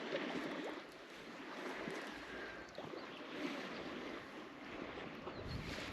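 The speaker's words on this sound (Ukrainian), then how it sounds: "Вітер дуже сильний." Strong spring wind sweeping across open water by a rocky shoreline during perch fishing, a steady broadband roar and buffeting that fills the whole stretch with no let-up and no talking.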